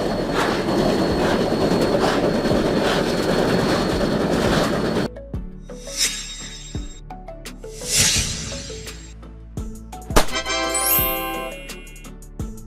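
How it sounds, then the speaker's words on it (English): A snowplow train on railway tracks gives a dense steady rumble for about five seconds, then cuts to quieter passes with hissing swells, clanks and a rising mechanical whine near the end. "Snowplow train. A train equipped with a snowplow to clear snow from railway tracks"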